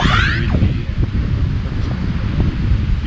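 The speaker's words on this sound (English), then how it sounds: "That's the reason it's windy." Steady wind on a Boracay beach, a loud continuous rush against the microphone with slight surges and no voices.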